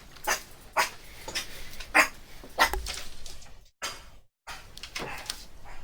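A dog barks repeatedly indoors, sharp separate barks at an uneven pace, with a short silent gap before the barking picks up again and no talk over it.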